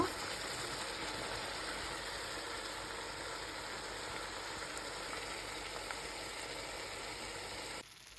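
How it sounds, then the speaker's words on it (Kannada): Curd curry simmering in a pan on a low flame, a steady soft sizzle and bubbling hiss that runs evenly throughout, then cuts off abruptly near the end. "ಇನ್ನು ಚೆನ್ನಾಗಿ ಥರ ಕುದಿಸ್ಕೊಳ್ಳೋಣ ಲೋ ಫ್ಲೇಮಲ್ಲಿ ಇಟ್ಟು"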